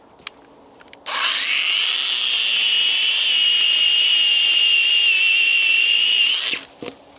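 A Parkside chainsaw cuts down through a log from the top beside the A5 main road near Prehen, Londonderry: a loud, steady high-pitched whine held for about five and a half seconds before stopping, with a couple of faint knocks before and after.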